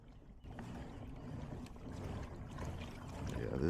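A Magellan Outdoors Pro 106 pedal drive kayak gliding across a lake, with a steady close wash of water and hull noise that builds slightly toward the end.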